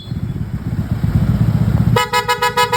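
A Bosch EC6 horn fitted on an idling motorcycle sounds in a series of short, loud, bright toots in quick succession, standing out over the steady low rumble of the engine.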